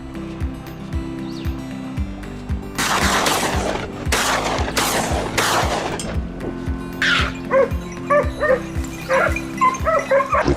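Loyal hunting dogs on a wild boar hunt in Texas grassland bark repeatedly in loud, choppy bursts, with yips and whimpers between them, over steady outdoor background noise and occasional clatter.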